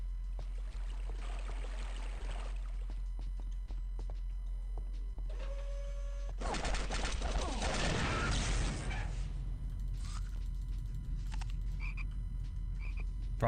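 Frogs croaking inside a secret facility in a video game, a faint rhythmic croaking over a steady low hum, with a louder rushing burst midway.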